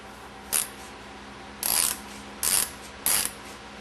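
Hex socket ratchet tightening an O-ring sealed plug while rebuilding a Meyer E 47, giving four short, close bursts of rapid clicking separated by pauses.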